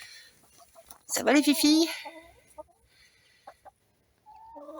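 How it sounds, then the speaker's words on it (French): Laying hens kept as retired commercial layers cluck in their outdoor run, a loud burst of fowl calls mixed with a voice talking to them nearby, then quieter scattered clucks. "C'est des poules de réforme, mais elles pondent bien"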